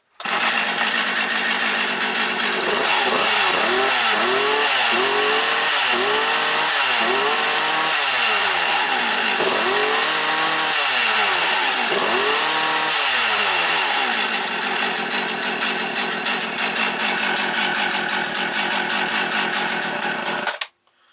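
A Partner 350 chainsaw, started cold in freezing weather, idles steadily and loud up close, its engine note wavering at the start before settling into an even buzz that cuts off at the end.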